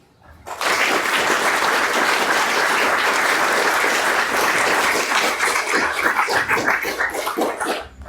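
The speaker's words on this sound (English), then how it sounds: "Another round of applause for them, please." A crowd at an indie game developers' lightning talks event breaks into loud, sustained applause that holds steady for several seconds before tapering off.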